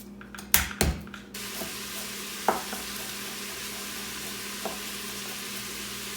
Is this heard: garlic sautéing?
yes